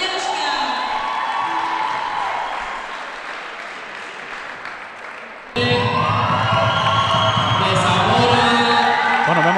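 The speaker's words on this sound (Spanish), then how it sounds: "Impresionante la ovación también de su grupo, pero también de todo el público aquí presente en el terreno de lucha" At an outdoor folk wrestling event, a crowd claps and cheers, softly and steadily at first, then swelling abruptly into louder applause partway through, while an announcer talks over it.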